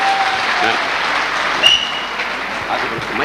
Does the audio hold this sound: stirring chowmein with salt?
no